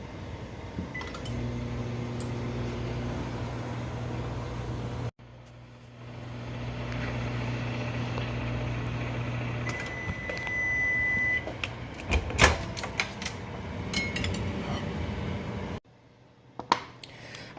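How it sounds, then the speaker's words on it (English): A microwave oven runs with a steady low hum and fan whir, pausing briefly and then resuming, before clinks, clatter and a short beep near the end; no one speaks. "I literally just pop it in the microwave for 1 minute and 15 seconds and we're done."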